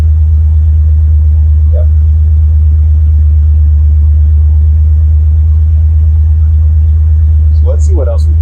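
A Buick Grand National engine idles steadily near 1000 RPM, a constant low rumble filling the whole stretch, with a brief spoken word near the end.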